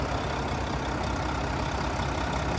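A 2011 Mack CXU613 flatbed truck's 12.8-liter inline diesel engine runs at a steady idle, a dense, close, unbroken rumble with no talk over it.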